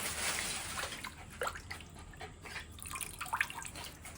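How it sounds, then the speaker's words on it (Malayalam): Water is poured out during quick household cleaning, heard as soft, faint splashes and drips that come in a few brief bursts against a quiet room. "ഒരു വെള്ളം ഒഴിച്ചാൽ മതി."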